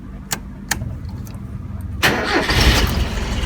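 A carbureted Mazda 808 is cranked with a key and catches quickly. A few faint clicks come first, then the engine bursts into a loud, steady, smooth idle up close.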